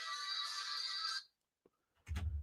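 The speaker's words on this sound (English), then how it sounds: "shout out to my ringtone" A phone ringtone plays alone for just over a second as a steady, bright electronic tone, then stops; a brief click follows and a low rumbling sound starts near the end.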